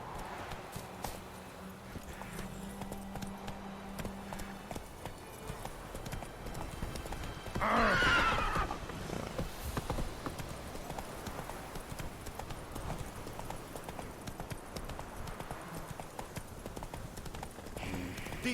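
Continuous hoofbeats of a horse trotting in the video game The Witcher 3, with a loud neigh bursting out midway over the steady clip-clop rhythm.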